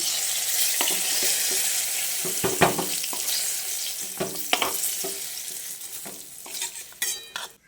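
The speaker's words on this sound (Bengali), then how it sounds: "বেগুনটাকে আরও কিছুক্ষণ লালচে করে ভেজে নিচ্ছি" Brinjal pieces frying in hot oil until reddish: a steady, close sizzle runs throughout, broken by scattered clinks and scrapes of a utensil turning the pieces.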